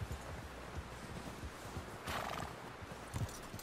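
A horse in the Red Dead Redemption 2 video game neighs once in a brief burst amid a run of close, uneven hoof clip-clops.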